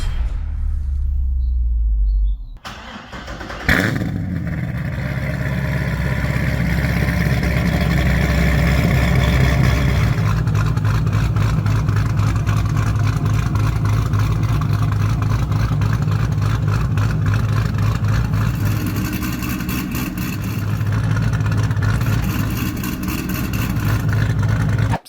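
A C6 Corvette's LS2 V8 with an aftermarket cam and long tube headers starts up, then settles into a loud, close, steady idle with a choppy, lumpy rhythm that continues unbroken.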